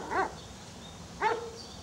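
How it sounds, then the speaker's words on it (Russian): A dog barks twice outside a house, a short pair of moderately close, sharp woofs separated by about a second of quiet. "Только у вас там собака лает."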